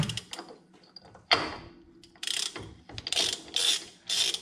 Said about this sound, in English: Grab your ratchet.